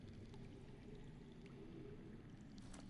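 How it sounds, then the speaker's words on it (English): Water flowing underground in a Game of Thrones video game, a steady muffled rushing wash, low and continuous throughout, faint and distant-sounding with no voices. "I hear water. From underground."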